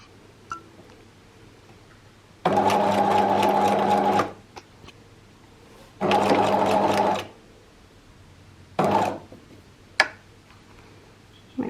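A sewing machine stitches fabric for reusable make-up remover pads, running in loud steady bursts of about two seconds with pauses between, then a couple of short stitches near the end.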